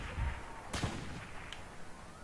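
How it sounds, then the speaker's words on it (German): Gunfire in the video game Saints Row The Third: one sharp, close shot bursts out, with a fainter distant pop after it over low game ambience, and no talk. "Ich kann schießen, wie ich will."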